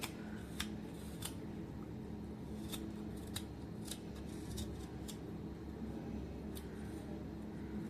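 A knife cuts the black skin off a piece of coconut. Sharp, scattered scraping clicks sound close up over a steady low background hum, and no one talks.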